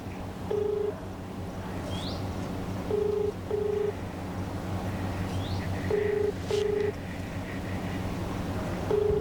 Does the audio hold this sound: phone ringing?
yes